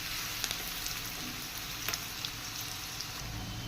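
Onions sizzle steadily in a hot pan, a dense even crackle with small pops, close by and alone with no talking.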